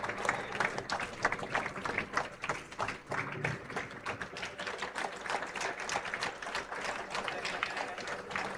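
Audience applauding in a convocation hall during an engineering graduation ceremony as a memento is presented, a sustained, moderately distant wash of many clapping hands lasting several seconds.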